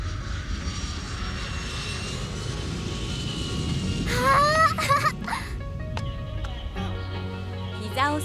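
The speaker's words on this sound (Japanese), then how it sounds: "ママ、ほら飛行機。" An airplane drones steadily overhead with a low engine hum, while a voice and other people talk nearby and outdoor noises come and go.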